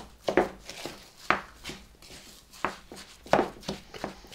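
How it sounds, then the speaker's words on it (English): A plastic spatula cuts through and mixes ground meat with panko breadcrumbs, salt and pepper in a bowl for Japanese sweet and sour meatballs. It makes close, irregular soft taps and scrapes, with several sharper knocks against the bowl. "I find it's just so good for cutting through the meat and mixing everything together"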